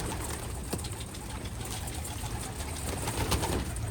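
An escaped pigeon coos softly at intervals outdoors, its low calls set against a steady wash of broadband background noise and no voices.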